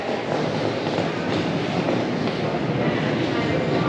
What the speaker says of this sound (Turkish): Buradan da Londra'ya tren gidiyor.